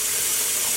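Cool water pouring steadily over a 50-gram hank of hand-dyed purple wool yarn during rinsing, a continuous bright splashing hiss at close range with no talking.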